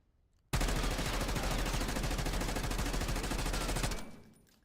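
Sustained automatic gunfire from a weapon in the video game Black Ops 6 fires as one loud, rapid burst of about three and a half seconds, then stops abruptly and fades out.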